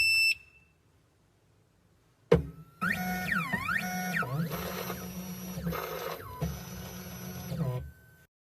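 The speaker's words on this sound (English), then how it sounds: "Turn on the machine." A 2M2 Tank 2 Pro CNC key cutting machine powers on with a short beep, then runs with a steady whirring motor and shifting high-pitched electronic tones before stopping abruptly.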